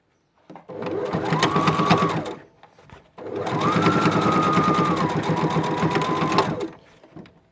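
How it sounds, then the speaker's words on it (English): A sewing machine whirs in two runs, a short burst then a longer steady stretch of rapid stitching, close and loud, with brief pauses between. "I am literally just going to stick it under the sewing machine."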